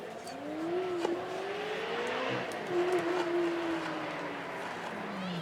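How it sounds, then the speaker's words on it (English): A Ferrari 360 climbing a hill at a supercar weekend, its engine note rising and falling through gear changes as it passes at moderate distance. Steady, moderately loud, with no talking. "360 Ferrari now coming back up the hill"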